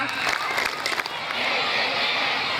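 An audience at an outdoor Isra Miraj gathering in a mosque courtyard claps along in a counting game, giving a quick burst of scattered handclaps before crowd noise and voices take over.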